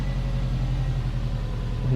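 A Subaru WRX idling after its engine is started, heard close by as a steady, even low rumble with no voices.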